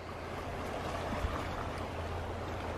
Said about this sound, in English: That is an ice, That is an ice cold